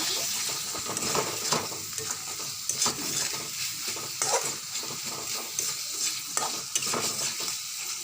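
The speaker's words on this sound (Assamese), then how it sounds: "বিলাহী আৰু কেপচিকামটো মিলাই ল'লোঁ। এতিয়া ভালদৰে লৰাই থাকিব।" Chopped tomato and capsicum sizzle in a pan for an Assamese-style spiced liver dish, with steady frying hiss and repeated scraping stirs of a spatula at close range, and no talking.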